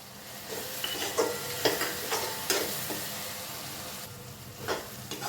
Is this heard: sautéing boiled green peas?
yes